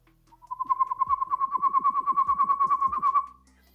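A rapid run of whistled notes, a human imitation of an excited pygmy owl's call, steady pitch pulsing quickly for about three seconds.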